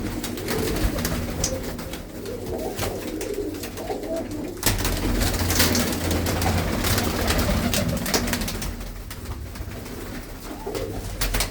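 Blue-footed pigeons coo continuously in a close loft in Ludhiana, a dense overlapping chorus of low, throaty calls with rustling and flutters, no talking.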